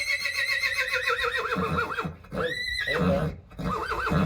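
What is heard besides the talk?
horse neighing to other horses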